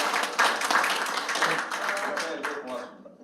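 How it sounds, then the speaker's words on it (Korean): An audience applauds after a presentation on media policy at a Korean political campaign committee briefing. A steady burst of clapping lasts a few seconds and tapers off toward the end, with a voice speaking over it. "박수 한번 큰 박수 부탁드립니다"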